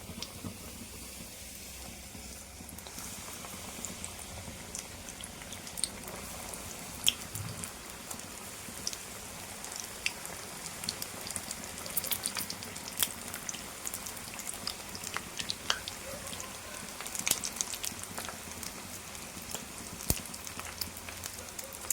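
Onion samosas deep-frying in hot oil, a steady dense crackle and bubbling with scattered sharper pops, close and continuous throughout without any talking.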